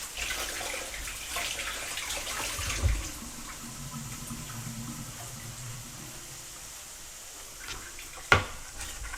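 Fresh herbs such as cilantro are rinsed under a running kitchen tap, a steady hiss of flowing water with light splashing and a sharp clunk near the end, close and continuous.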